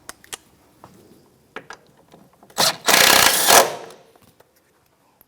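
An impact gun briefly tightens bolts on a 2013-2018 Toyota RAV4 during an ABS sensor job, sounding as one loud rattling burst of about a second, surrounded by quiet clicks and handling noises.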